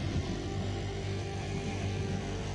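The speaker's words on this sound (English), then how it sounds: "aircraft incoming!" Enemy aircraft droning overhead in the World of Warships Blitz naval game, a steady engine hum that holds at even loudness throughout, with no talk.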